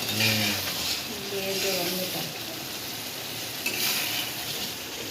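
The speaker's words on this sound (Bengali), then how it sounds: "ঘি তৈরি হচ্ছে ঘি একদম সরের ঘি" Homemade ghee cooks down from milk cream in a pan with a continuous crackling sizzle and occasional scraping, while a person talks over it at the start.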